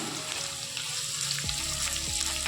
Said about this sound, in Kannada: ಈರುಳ್ಳಿ ಸೊಪ್ಪು ಚೆನ್ನಾಗಿ ಫ್ರೈ ಮಾಡ್ಕೊಳ್ಳೋಣ